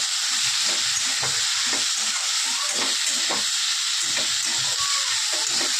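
Sliced bitter gourd and onion fry with salt, turmeric and green chillies, making a loud, steady hiss and sizzle throughout. Soft, repeated stirring scrapes sit underneath it.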